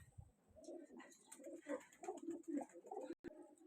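Pigeons coo repeatedly in an indoor pigeon farm, soft rolling calls overlapping close by, with faint chirps and a brief sharp knock near the end.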